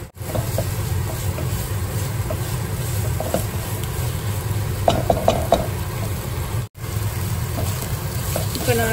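Ginger garlic paste is sautéed in a pan for an egg gravy, producing a steady, dense sizzle with occasional scraping taps of the spoon, close and fairly loud, with a brief dropout near the end.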